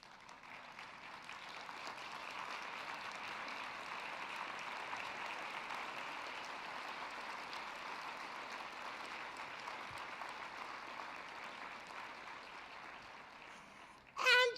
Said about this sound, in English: Can you stand to your feet and give the next generation of entrepreneurs a round of applause?